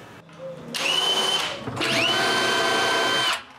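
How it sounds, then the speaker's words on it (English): Power drill driving screws to fix a hinge onto a wooden pantry door, two sustained whirring bursts with a short pause between, close and loud, the motor pitch rising as each screw starts. "I screw one part of the hinge on the door"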